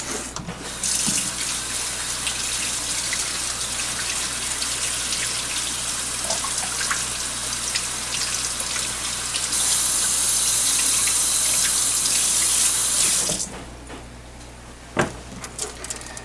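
Tap water runs steadily into a sink while a scaled, gutted fish is rinsed under it, a continuous splashing hiss that swells louder near the end before cutting off, leaving quieter ambience and a brief knock.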